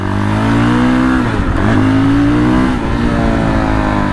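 A Fantic Caballero Flat Tracker 500 motorcycle engine runs loud and close throughout, a steady throbbing drone with a couple of brief rev swells, no talking over it.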